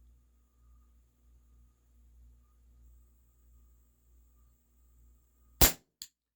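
A WE Tech Bulldog gas blowback airsoft pistol fires once with a sharp, loud crack, followed by a fainter second snap, after several seconds of near silence with a low background hum.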